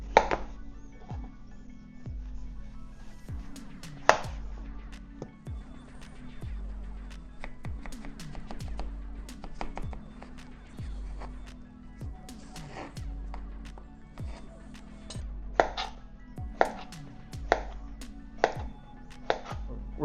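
A knife cuts through a cantaloupe, giving soft irregular chopping knocks on a board, some sharper clicks standing out toward the end, with a faint steady hum beneath.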